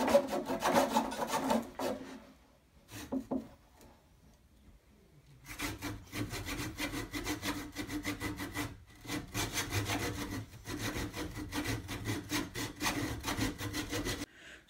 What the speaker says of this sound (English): So I'm just cutting that wood